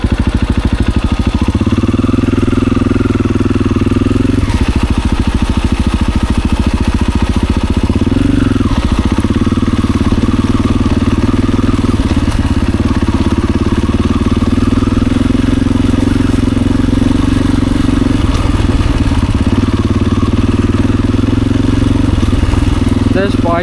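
Enduro motorcycle running on a trail, its engine droning steadily close by with a few shifts in pitch as it picks up speed or changes gear, under a voice talking throughout.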